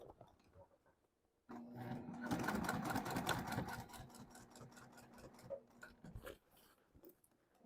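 A sewing machine stitches a cork backpack, starting abruptly and running in a steady, rapid mechanical chatter for several seconds before stopping, with a few softer clicks afterward.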